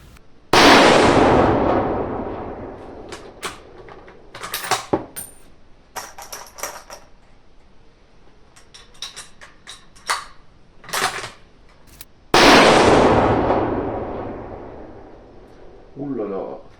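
.308 Winchester rifle shots at a shooting range: two loud, sharp blasts about twelve seconds apart, each trailing off in a long echoing decay, with clicks, handling noises and voices in between.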